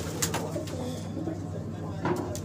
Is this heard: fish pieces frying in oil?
no